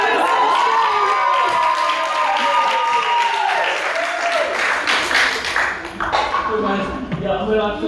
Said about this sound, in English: everyone can applaud you